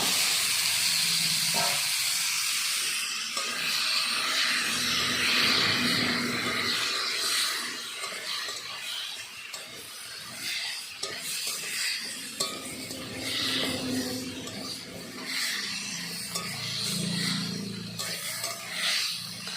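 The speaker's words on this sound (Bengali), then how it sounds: "এবার কেটে রাখা আলু দিয়ে দেবো" Cut potatoes go into a spiced curry in a pan, giving a steady close sizzle and hiss with scraping and stirring of a utensil against the pan, with occasional metallic clinks and no talk.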